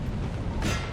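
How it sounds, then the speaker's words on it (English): Cannon fire in the Napoleon: Total War video game during a Great Britain campaign battle, a short deep rumbling boom with a burst of rushing noise, close and loud. "Very nice cannon shots"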